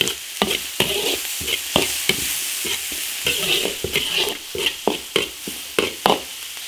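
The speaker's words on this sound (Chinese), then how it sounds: "大蒜、青红椒、洋葱丁炒香，来点干辣椒、花椒， 香味炒出来再下鱼。" Garlic, green and red peppers, diced onion, dried chilies and Sichuan peppercorns stir-fried in an iron wok: a steady oily sizzle with rhythmic spatula scrapes and clanks against the metal, close and clear, without any talk.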